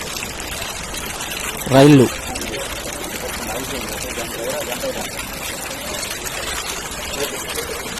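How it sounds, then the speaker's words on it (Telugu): Floodwater rushes over the railway tracks at platforms 2 and 3 of Dornakal station after very heavy rain, a steady broadband wash under a man's speech, with one brief loud tonal burst near the start. "ట్రాక్ మీదకి వచ్చిన నీళ్లు ప్రవాహంగా ప్రవహిస్తుంది"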